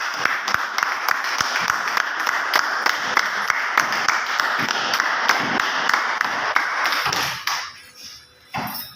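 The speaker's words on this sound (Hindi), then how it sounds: "ताली बजाते रहे मैम।" Audience applause fills a room with steady, dense clapping for about seven seconds, then tapers off into scattered claps and quiet near the end.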